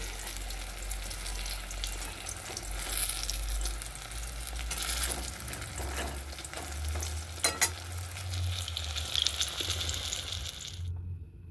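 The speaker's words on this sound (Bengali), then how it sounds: "বেগুন ভাজা হয়ে গেছে।" Brinjal slices with two green chillies frying in oil in a pan, a steady close sizzle with stirring and turning clatter throughout, ending abruptly near the end.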